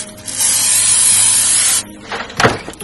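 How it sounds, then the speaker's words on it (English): A close, steady hiss of cooking spray sprayed onto a whole chicken lasts over a second, followed by soft rubbing and handling noises; no talking. "you can use any kind of cooking spray you want to"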